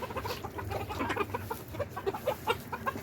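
Chickens cluck and murmur continuously in a covered barnyard, several birds close by with soft, irregular calls and no talking.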